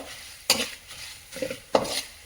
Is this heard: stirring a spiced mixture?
yes